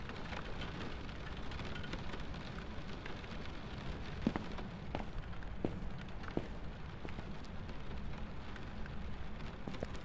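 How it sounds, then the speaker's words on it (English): Steady rain drumming on windows in Phasmophobia, a dense continuous patter with occasional sharper drops and faint low rumbling underneath, no talk. "It's the rain bouncing off the windows."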